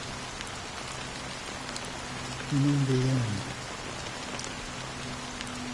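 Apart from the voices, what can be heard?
rain falling in video game Honkai Star Rail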